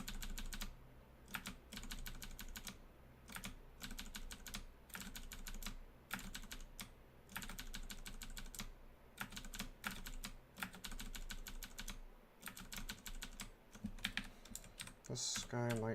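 Rapid computer keyboard typing with frequent Tab key presses, a dense stream of close, crisp clicks and clacks running steadily throughout while playing the roguelike game Dungeon Crawl Stone Soup.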